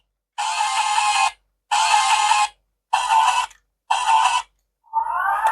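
Electronic music from a Kamen Rider Blade Blay Buckle toy (CSM Complete Selection Modification), loud bursts of tinny tones in four evenly spaced segments with short gaps, then a fifth beginning, no speech.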